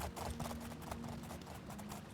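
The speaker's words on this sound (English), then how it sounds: "Wherever have you seen a horse galloping on water?" A horse galloping across water in the video game Oblivion, quiet rapid hoofbeats in a steady rhythm that run alone for a couple of seconds.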